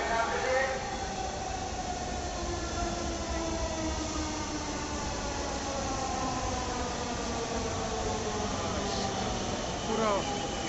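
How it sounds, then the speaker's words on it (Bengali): A crowded metro train arrives at a station with a long, loud rumble and a rising whine from the approaching cars, steady throughout, while a faint voice sounds in the background. "এই হচ্ছে আমাদের মেট্রো"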